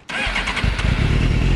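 A Suzuki GSX-R 600 K3 motorcycle engine cranks and catches, then settles into a loud, steady, close-up idle rumble with no voices.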